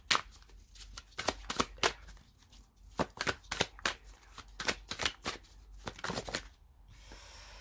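Tarot cards shuffled by hand in a series of crisp, rapid riffling bursts, close and fairly loud with brief pauses between, ending in a softer hiss.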